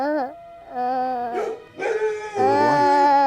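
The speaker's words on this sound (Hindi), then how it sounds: "रात में कुत्ते का रोना अपशकुन होता है।" A dog howls and whines at night in a historical Indian drama scene, with several wavering, drawn-out cries that rise and fall. The cries are fairly loud and close, and a person may be speaking faintly beneath them.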